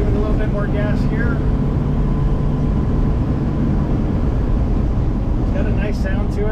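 A 1976 Ford F250 Ranger pickup's engine revs up while driving, a steady, dense low rumble mixed with cab and wind noise throughout, heard from inside the cab with no speech.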